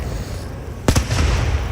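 A single loud firework burst cracks out about midway, followed by a rumbling echo and continued crowd-like ambient noise from an outdoor fireworks display.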